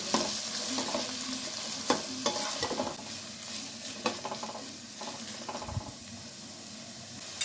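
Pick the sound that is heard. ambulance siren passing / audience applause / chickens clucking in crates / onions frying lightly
onions frying lightly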